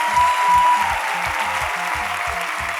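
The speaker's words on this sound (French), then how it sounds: "sous un dernier tonnerre d'applaudissements, s'il vous plaît" A fashion show audience gives a final round of applause, steady clapping throughout, with a faint tone and a low rhythmic beat of music underneath.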